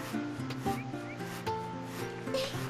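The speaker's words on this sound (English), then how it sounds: "is that guy like sawing the part of the steps that's actually fine?" Rhythmic rasping strokes of a saw cutting through wooden steps in the Final Fantasy X video game, a steady back-and-forth scraping with regular repeating bursts, fairly close and clear with no talking.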